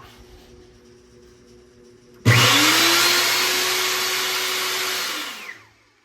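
A Menegotti bench saw's motor switches on after its magnetic switch was cleaned. It starts abruptly with a loud, steady rushing whine that runs for about three seconds, then winds down and fades.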